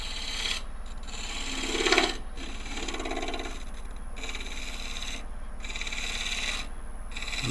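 A carving gouge shearing across a wood burl gives a steady, close rasping rub that runs throughout, with a brief louder swell partway and a few short pauses between strokes.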